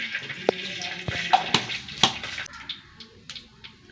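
Mustard seeds spluttering in hot oil in a pan, scattered sharp pops and crackles over a soft sizzle, close and fairly quiet.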